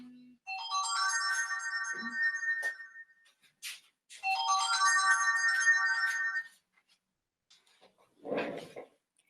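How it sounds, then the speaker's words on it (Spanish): A telephone ringtone plays as two long melodic bursts of several seconds each, clear and fairly close, with a brief rustle and a short noise after. "me está sonando el teléfono y lo voy a apagar."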